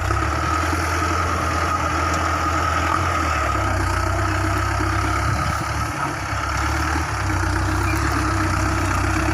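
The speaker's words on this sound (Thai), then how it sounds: "ฟังเสียงท่อ" Heavy tractor exhaust from a Ford 6600 idling with a deep, constant rumble and low throbbing drone, steady throughout, with faint outdoor background noise.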